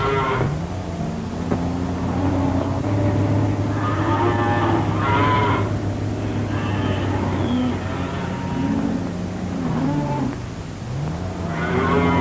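Cattle low and moo repeatedly over a steady background hum, several drawn-out calls rising and falling across the stretch, fairly close and loud, in a 1944 Army-Navy screen magazine short.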